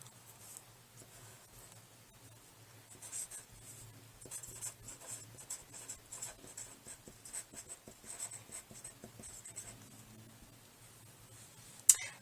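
Pen or pencil writing annotations in the margin of a printed text, soft close scratching strokes in short irregular bursts that come and go throughout, quiet and alone, ending with a sharp tap.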